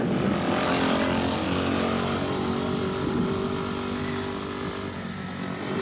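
A scooter engine drones past on a quiet road in Greece, a continuous buzzing whine that stays loud and steady, then eases slightly toward the end.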